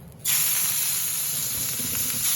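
Prawns for a pan-fried tandoori dish drop into very hot oil and burst into a loud, steady hiss and sizzle that starts abruptly after a brief quiet moment and continues without pause.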